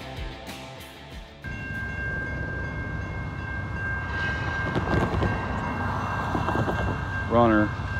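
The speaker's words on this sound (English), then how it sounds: "we got train 54B coming up right behind me, coming southbound to Norfolk Southern" Norfolk Southern freight train rolling across railroad diamonds, a loud sustained rumble and rattle of wheels with clanks, joined midway by a steady horn tone and a brief bell-like ring near the end.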